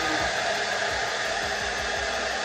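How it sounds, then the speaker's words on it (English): A handheld blow dryer runs on hot during a lace frontal wig install, a loud, steady, close-up whoosh of airflow that holds constant throughout without talk. "I'm gonna go with your blow dryer on hot."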